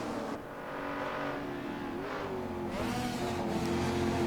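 Racing engines of a 1967 Ford Mustang and an Alfa Romeo touring car at Silverstone in Assetto Corsa roar loud and continuous, with a rising, sustained engine note as the cars run nose to tail.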